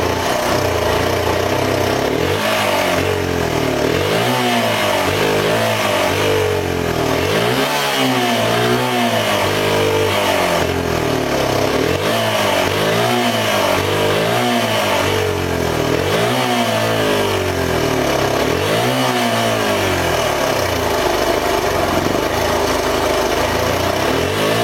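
Suzuki DR 125 motorcycle engine running with the choke off, revved repeatedly in rising and falling bursts over a rough, uneven idle, loud and close with no voices.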